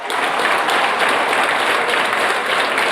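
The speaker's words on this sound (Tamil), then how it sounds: "ஐயா கேப்டன் ஐயா ரசிகர்லாம் கைத்தட்டுங்க." Loud, sustained applause from a big crowd of fans, thick overlapping claps that hold a steady level from start to finish.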